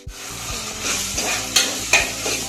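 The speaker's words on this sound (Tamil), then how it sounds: "இப்போ நான் வெங்காயம் சேர்த்துட்டேன்." Onions for a Tamil-style peas pulao frying in a pan, a continuous sizzle broken by several sharp scraping strokes of a spoon stirring, close and clear with no talk.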